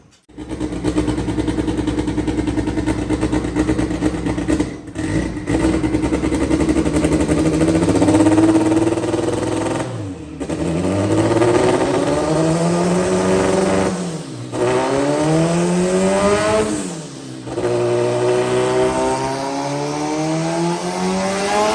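Tuned car with a new wastegate spring revving on a hub dyno, loud and close, engine pitch climbing in repeated sweeping pulls with brief drops between runs, no talk.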